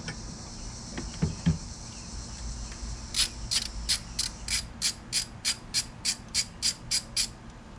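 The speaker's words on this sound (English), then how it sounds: "so now we'll take our 10mm socket." A ratchet fitted with a 10mm socket loosens a coil pack bolt on a 2012-2016 Honda Civic 1.8, giving a close, crisp run of about a dozen evenly spaced clicks after a few quiet knocks, with no talking.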